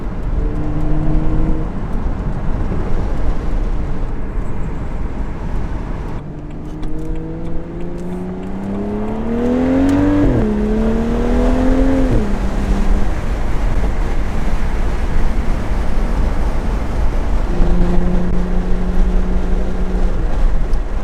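BMW N55 engine exhaust, a loud, close engine note that idles, climbs through two rising revs and falls back, then holds a steady tone before settling again, with no talk over it.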